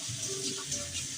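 Water runs from a kitchen tap while a utensil is rinsed after making a sweet potato pudding, a steady, soft hiss throughout.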